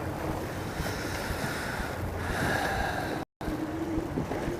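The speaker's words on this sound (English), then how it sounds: "I reckon it's blowing nearly as hard today as it was yesterday at this time." Strong wind buffets a boat on the Hawkesbury River while waves wash against the hull, a loud, constant roar of gusts and surf close to the microphone, broken by one brief cut-out.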